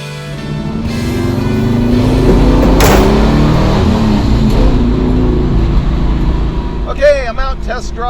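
A car fitted with a test carburetor drives steadily, its engine drone loud and continuous for most of the stretch, with a brief rise near the end.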